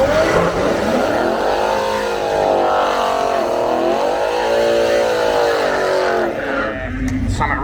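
A Chrysler ute with a 225 slant six engine accelerating hard down a drag strip, a loud sustained engine note with rising and falling revs throughout, fading slightly near the end.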